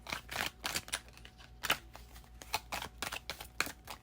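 Tarot cards are shuffled by hand at close range, a quiet series of crisp riffling and flicking bursts in an uneven rhythm, with no talking.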